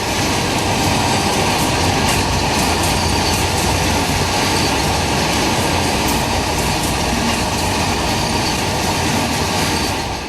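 A train running through the Gotthard rail tunnel in Switzerland gives a loud, steady, dense rumble and roar of wheels on rails that lasts unbroken throughout.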